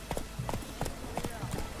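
Hoofbeats of Roach, Geralt's horse in The Witcher 3, clop in a steady galloping rhythm, moderately close, with game voices and ambient noise layered over the pounding.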